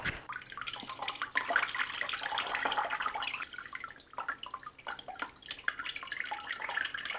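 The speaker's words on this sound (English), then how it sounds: "I should probably water this one and water that one there." Water trickles and drips steadily into a houseplant's pot at close range, faint and continuous with small splashes and no voices.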